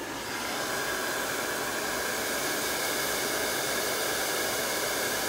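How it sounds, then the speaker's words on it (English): A blow dryer runs steadily on a craft transfer for a manger scene, a continuous loud airy whoosh of broadband noise lasting the whole stretch, with no voices. "So we're going to hit this with a blow dryer"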